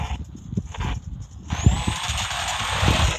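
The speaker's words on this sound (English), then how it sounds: "And listen to that rev." Engine revving in a drag racing video game car, a rising high-pitched whine that climbs steadily after a short pause, loud and sustained with broadband roar underneath.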